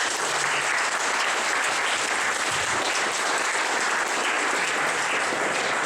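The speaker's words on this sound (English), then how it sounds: "can the local partners again please get a big round of applause" A crowd at a Startup Weekend event in Žilina gives the local partners steady, sustained applause, a dense wash of clapping that holds evenly throughout.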